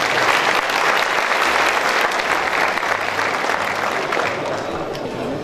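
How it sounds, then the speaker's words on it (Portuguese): A seated audience at an agricultural seminar applauds a guest speaker, with sustained, loud, dense clapping from many people that tapers slightly toward the end. "El aplauso de todos los presentes."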